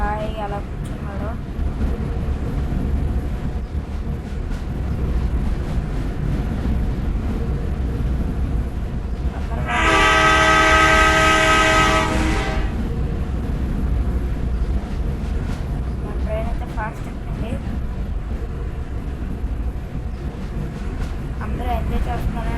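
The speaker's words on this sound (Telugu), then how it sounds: "మన ట్రైన్ అయితే సాఫ్ట్గా వెళ్తుంది అనమాట." A passenger train rolls smoothly along as a loud, steady horn blast sounds for several seconds midway, layered over continuous rumbling and background talk.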